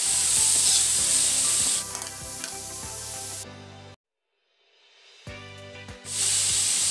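Pork sizzles and crackles as it is stirred in a pan for a Lucban meat loaf. The frying is loud and close, cuts out abruptly to near silence partway through, then returns.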